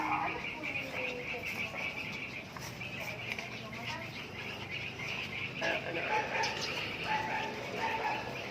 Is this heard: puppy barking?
yes